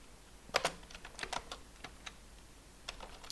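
Quiet, irregular clicking of a computer keyboard as a username and IP address are typed, short bursts of keystrokes spaced unevenly, close and faint with no voices.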